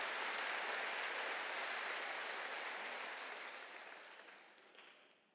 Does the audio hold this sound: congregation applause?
yes